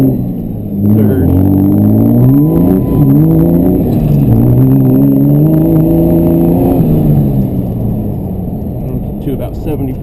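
Twin-turbo Cummins diesel pickup truck pulling hard through its gears, its loud engine note climbing in pitch, dropping briefly at each shift, then climbing again, steady and close throughout the run.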